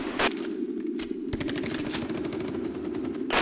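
Rapid automatic gunfire rattles in the Hired Ops shooter game, a steady stream of fast shots over a constant low rumble, with a few louder bursts standing out near the start and end.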